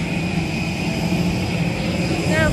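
A plane at Glasgow airport gives off a steady, broad engine roar close by that holds for the whole stretch, with faint voices in the background.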